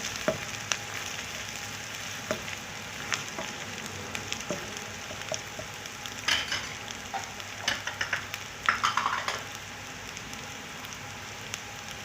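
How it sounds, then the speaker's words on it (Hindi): Ginger garlic paste fries in a pan with a soft, steady sizzle and crackle that runs throughout at low volume. Occasional sharper pops and a brief flurry of stirring clicks come near the end, and no one speaks. "अदरक लहसुन का पेस्ट भी थोड़ा सा फ्राई हो जाए"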